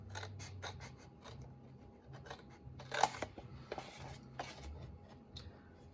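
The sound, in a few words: scissors cutting card for Christmas cracker box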